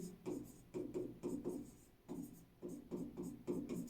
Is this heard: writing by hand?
yes